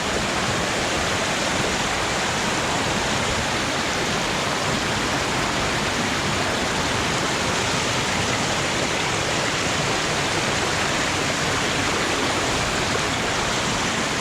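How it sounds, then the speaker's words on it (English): Heavy rushing water outdoors, a broad continuous roar like a flooded stream or runoff, loud and close with no letup and no voices. "It's actually a lot of water."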